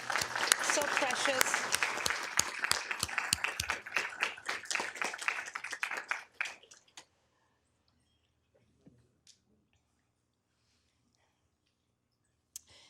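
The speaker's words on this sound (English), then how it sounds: "Please give them a round of applause." City council meeting audience applauding Boy Scouts and Cub Scouts, a brisk round of clapping for about six seconds that quickly tapers off into near silence, with a brief spoken word and a few stray taps afterward.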